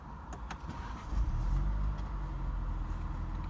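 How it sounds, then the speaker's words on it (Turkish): Heard with the car's windows open, a BMW 320i engine idles nearby, giving a continuous deep rumble with faint outside air noise and a few light ticks, no voices. "Bu şekilde de e, motorun sesini görüyoruz."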